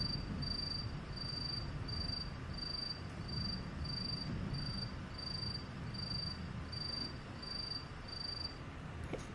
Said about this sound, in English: A lot of bugs in this episode.